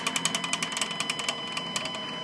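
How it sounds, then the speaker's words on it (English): A Stepcraft 840 CNC machine running with an odd fault noise, a steady mechanical whir carrying a fast, regular ticking or rattling pulse, close and continuous throughout. "I haven't had CNC machines before, but I'm pretty sure they're not supposed to sound like that"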